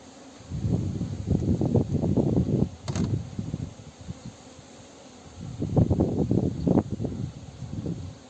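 Gusts of wind buffet the microphone at a beehive apiary, coming in two long bursts with a quieter gap between, faint buzzing and rustling beneath.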